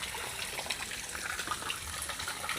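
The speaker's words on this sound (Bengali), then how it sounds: "পানি যে আসতেছে এখনো," Rainwater keeps flowing after a downpour in Chandina, a faint, steady trickling gush of running water with soft splashes and no voices.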